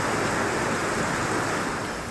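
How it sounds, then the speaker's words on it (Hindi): Floodwater rushing through city streets in Bharuch, Gujarat, after heavy rain, a steady, dense roar of flowing water that holds loud and unbroken throughout, with no voices. "सड़कों पर बहते पानी की वजह से शहर तेज रफ्तार नदी के जैसा दिखने लगा"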